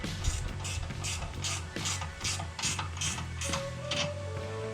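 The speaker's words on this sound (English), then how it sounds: "I'm gonna get them nice and snug with my ratchet wrench here." A ratchet wrench tightens bolts on a camper's spare tire mount, giving a steady run of close, loud clicking pulls with a brief metallic tone near the end.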